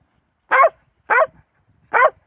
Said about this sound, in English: Everyone can see that you're barking.